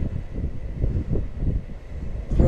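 Gusty wind buffets the microphone on a wind-blown lake bank, a low rumbling roar that swells and dips unevenly throughout with no voices.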